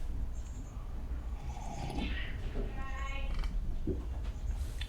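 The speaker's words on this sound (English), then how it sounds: "cats are acting up" Cats meowing indoors, a few faint, drawn-out calls heard mid-way against a noisy room background during a live broadcast.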